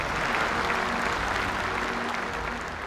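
A crowd applauds in a steady, dense wash of clapping, close and loud throughout without a break.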